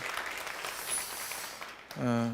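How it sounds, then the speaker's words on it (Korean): A church congregation applauds an elder during a Christmas-season service. The broad clapping of many hands fills the room, then dies away as a voice begins speaking. "박수로 다시 한번 우리 권사님을 격려하실까요?"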